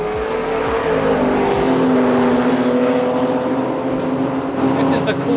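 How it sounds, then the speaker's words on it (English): Racing cars roar past the pit wall at Silverstone at close range, engines whining and shifting pitch as they pass, a loud continuous engine drone with a voice faintly underneath. "It's so cool listening to these cars go by."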